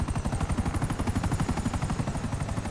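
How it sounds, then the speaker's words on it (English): A helicopter in Grand Theft Auto V, its rotor beating in a fast, steady rhythmic thump close and loud for the whole stretch, with no talk. "Another chopper."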